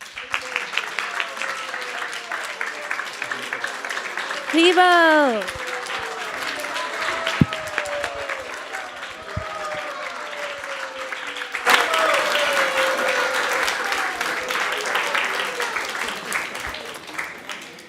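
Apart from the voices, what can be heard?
round of applause for participants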